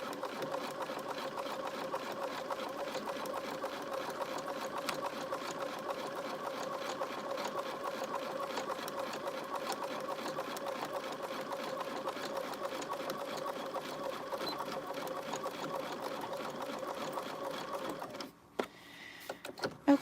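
A sewing machine runs at a steady, continuous hum of rapid stitching for a long stretch, close and even, before stopping abruptly near the end with a few clicks.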